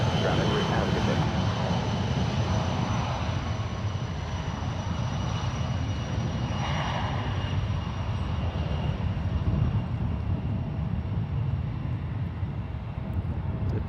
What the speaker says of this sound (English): Departing now, we have United Express CRJ 200 operating as SkyWest 5619 headed up to Redding